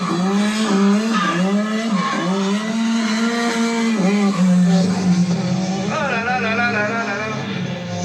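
A Renault 5 Turbo rally car slides with loud, continuous tire squeal over a steady, wavering engine note, the squeal bending in pitch throughout.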